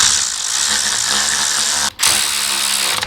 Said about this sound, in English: once I finish tightening these bolts